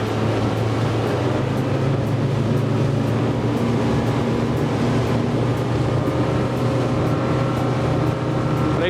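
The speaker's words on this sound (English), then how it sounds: "The F200 Yamaha is plenty for this boat." A Highfield 700 RIB powered by a Yamaha F200 outboard runs at a steady pace, its engine droning loud and continuous alongside broad rushing water noise, with no one talking.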